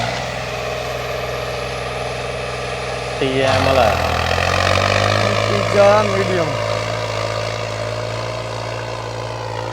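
A heavy New Holland 3630 tractor engine drones steadily close by, its pitch shifting and rising partway through as it revs, with a voice speaking over it.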